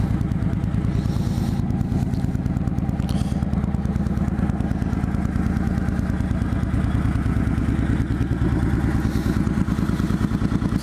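A motorcycle engine idles close by between rides, a loud, steady pulsing rumble with a rapid, even firing rhythm and light mechanical clatter throughout.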